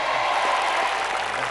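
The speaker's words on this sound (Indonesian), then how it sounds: "Luar biasa, tepuk tangan." Studio audience applause at a televised family quiz game show, a steady wash of clapping that stays loud and even throughout.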